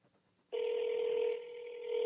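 A phone rings back over a speakerphone: after faint background murmur, a steady electronic ring tone begins abruptly and holds at moderate loudness until the end.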